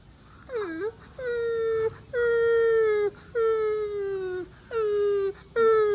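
A person imitates a puppy's whimper with a series of about six long, high, wavering whines separated by short breaths, close and fairly loud.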